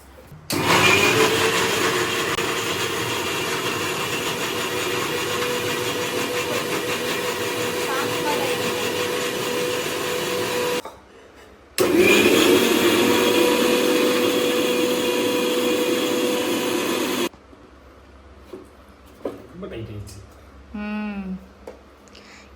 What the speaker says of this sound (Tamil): சின்ன வெங்காயம் தனியா அரைச்சிடணும், இஞ்சி பூண்டு மிளகா தனியா அரைச்சிடணும்.